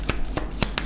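Tarot cards being shuffled and drawn, four quick close papery flicks and slaps in under a second.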